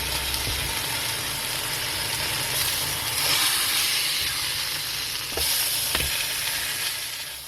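Bison smashed burger frying in a pan, a steady close sizzle and hiss throughout with a few faint scraping clicks and no talking.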